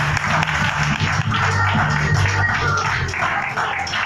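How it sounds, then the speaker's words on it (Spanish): A church congregation applauds together in steady, sustained clapping that fills the space, with a low hum of voices and music underneath throughout. "Aplauda la presencia de Dios Todopoderoso."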